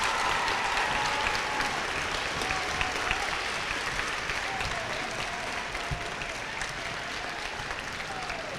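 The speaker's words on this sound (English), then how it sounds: "Big round of applause." Steady applause from an audience at an 8th grade awards presentation, even and sustained throughout, moderately distant and fairly quiet.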